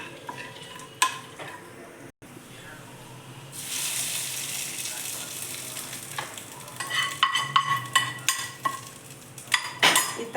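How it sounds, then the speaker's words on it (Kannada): Rice being mixed with ghee-fried dried red chillies, cashews and curry leaves, with spoon scrapes and clinks against the vessel, soft sizzle underneath and busier clattering bursts toward the end, no speech. "ಈ ತುಪ್ಪಕ್ಕೆ ಒಣಮೆಣಸಿನ್ಕಾಯಿ ಮತ್ತು ಗೋಡಂಬಿ ಮತ್ತು ಕರಿಬೇವಿನ ಸೊಪ್ಪು ಹಾಕ್ಕೊಂಡು ಫ್ರೈ ಮಾಡಿ ಕಲಸಿರೋ ಅನ್ನಕ್ಕೆ ಹಾಕ್ಕೊತೀನಿ"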